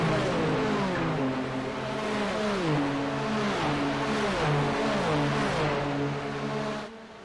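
Several turbocharged race car engines in the iRacing simulator at Fuji whine and rise in pitch together, with repeated upshifts and a steady, loud, synthetic game-like drone throughout.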